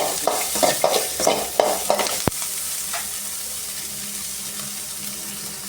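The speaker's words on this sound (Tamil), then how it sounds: "ஒரு ஒன்றரை ஸ்பூன் எண்ணெய் ஊற்றி நல்லா வதக்கி விட்டுக்கலாம் அது கூடவே ஒரு ஏழு எட்டு பல்லு பூண்டை போட்டு நல்லா வதக்கி" Garlic cloves sauté in about one and a half spoons of oil while a spoon stirs and scrapes the pan for a Chettinad quail thokku, giving a steady close sizzle with clinking stirring strokes early on, and no talk.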